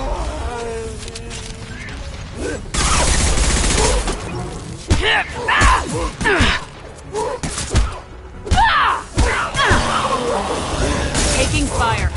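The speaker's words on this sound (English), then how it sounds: "Taking fire." Gunfire in the video game Mass Effect 2 on Insanity difficulty: dense bursts of shots and heavy thuds clatter through a chaotic battle, with voices speaking over the action and shattering impacts breaking in.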